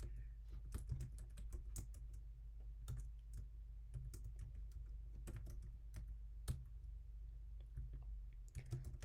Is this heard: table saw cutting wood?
no